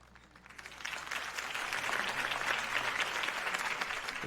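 Crowd applause in Batman: The Telltale Series swells from moderate to loud, sustained clapping from many hands throughout with no voices over it.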